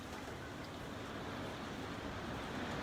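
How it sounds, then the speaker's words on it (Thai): Typhoon wind in Tokyo, a steady broadband rushing roar with no rain, continuous and fairly faint. "มีแต่ลม"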